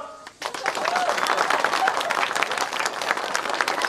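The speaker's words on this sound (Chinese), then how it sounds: "掌声" Wedding guests applaud the groom's father as he comes up to speak, dense sustained clapping that starts abruptly and stays loud and close, with some crowd voices underneath.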